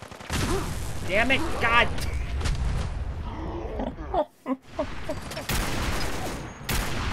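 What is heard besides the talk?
gunfire from a loud gun in video game Fallout 4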